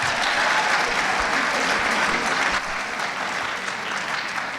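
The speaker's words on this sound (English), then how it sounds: "Let's give all our athletes a round of applause for all of their efforts." An audience applauds athletes at a high school winter sports awards ceremony, a loud, dense, sustained round of clapping that eases slightly toward the end.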